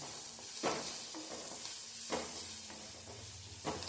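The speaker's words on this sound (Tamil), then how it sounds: "இடிகள்லையே தட்டின பூண்டையும் சேர்த்து நல்லா ரெண்டத்தையும் சேர்த்து நல்லா பொன்னிறமாக வதங்கி வரணும்." Crushed garlic and onion fry quietly in a pan, a low continuous sizzle broken by a few soft stirring scrapes at intervals, heard up close with no one speaking.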